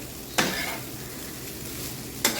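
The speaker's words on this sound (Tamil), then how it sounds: "சாதம் சேர்த்து நல்லா மிக்ஸ் பண்ணிக்கோங்க." Cooked rice is mixed into a cauliflower mixture in a pan, a soft low sizzle running under two sharp clanks of a spoon against the pan.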